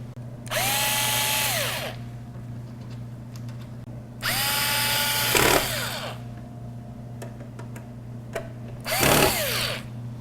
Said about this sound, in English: I'm going to go ahead and just put those 2 screws in